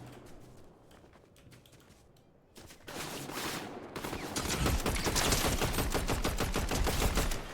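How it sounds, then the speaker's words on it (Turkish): Rapid automatic gunfire from a Black Market weapon in the Fortnite video game, starting light and growing into a loud, dense, sustained stream of shots in the second half. "Çok seri sıkıyor. Silah gücüne bakar mısın?"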